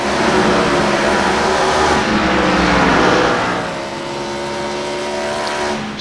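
Race car engines in an iRacing ARCA Menards Series race at Iowa Speedway: a sustained, loud roar of several stock cars at high revs, with pitch shifting as the pack passes and no talk.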